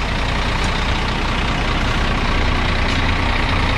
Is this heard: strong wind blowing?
no